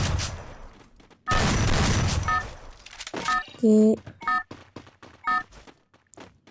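Gunfire in a shooter video game cracks out in sharp bursts and single shots, some rapid and some spaced apart, mixed with short electronic game tones while a player talks in between.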